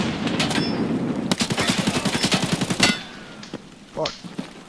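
Rapid gunfire and a grenade blast in a multiplayer shooter game, a dense burst of repeated shots lasting a couple of seconds, then quieter scattered sounds and one last short burst, with some voice underneath.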